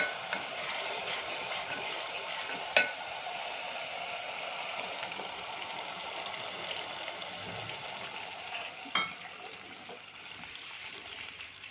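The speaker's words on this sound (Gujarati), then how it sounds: "મિત્રો હવે આપણે ટામેટાની પ્યોરીને પણ સારી રીતે શેકાવા દેવાની છે" Tomato puree frying with roasted onions in a pan, a steady soft sizzle and bubbling that runs throughout at low level, broken by a couple of sharp utensil taps.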